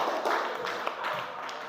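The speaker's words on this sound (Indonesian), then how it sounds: "Tepuk tangan dulu." A classroom of students claps briefly on a teacher's cue during an Islamic studies lesson, a short burst of scattered, moderately loud hand claps.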